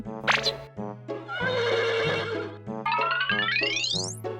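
A horse at Hua Hin beach gives a loud, close whinny: a long shaky neigh, then a sharp rising squeal, over a steady rhythmic tonal backing.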